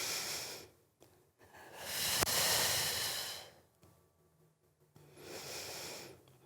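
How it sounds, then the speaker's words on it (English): Slow deep breathing during a core workout: two long, loud airy inhales through the nose, each followed by a steady exhale through the mouth, close up with quiet pauses in between. "Big inhales through the nose. Exhales through the mouth."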